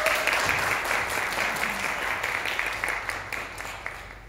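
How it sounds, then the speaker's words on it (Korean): An audience applauds to welcome a speaker at a data security and prevention seminar. The applause is dense and continuous and gradually tapers off, with no talk over it. "큰 박수로 맞이해 주시죠."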